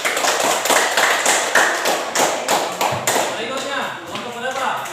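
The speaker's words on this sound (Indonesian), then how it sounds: "Oke, tepuk tangan dulu." A classroom group claps hands together during a teaching practice session, a steady run of sharp, close slaps filling the first three seconds before thinning out, with voices talking over the end.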